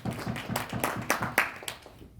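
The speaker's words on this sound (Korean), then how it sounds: "박수로 환영해 주시기 바랍니다." An audience claps to welcome a lawyer onto the stage at a CES 2020 debriefing event in Las Vegas; a short, moderately loud burst of sparse hand claps with a steady rhythm that tapers off within a couple of seconds.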